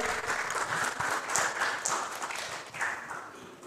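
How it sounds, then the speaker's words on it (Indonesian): A university audience applauding as the dean is welcomed, dense even clapping that swells and carries on steadily for several seconds, with no talk over it. "Boleh beri tepuk tangan teman-teman sekalian"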